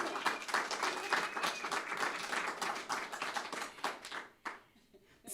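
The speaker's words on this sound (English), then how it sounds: "I think this deserves a round of applause." Applause from a modest audience at a Green Party state convention, a soft scattering of individual claps that holds steady and then thins out and fades near the end, with no talk over it.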